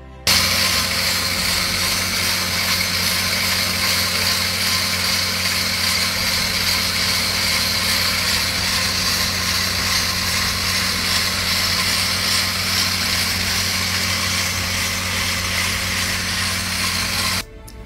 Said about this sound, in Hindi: दोनों तरफ से ROC मशीन ड्रिलिंग कर रही है